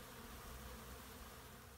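Honey bees buzzing around a beehive during a honey harvest as they try to reach exposed honey: a faint, continuous swarming drone, steady throughout the short clip with no talk.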